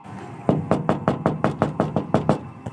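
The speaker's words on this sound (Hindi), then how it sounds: "मुझे खिड़की के कांच के खटखटाने की आवाज़ आने लगी" Knocking on window glass, about ten sharp raps in an even, steady rhythm, close and distinct.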